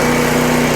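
A Scag SFC 30 lawn mower's small engine catches on the first pull and runs with a steady, loud, buzzing hum at close range.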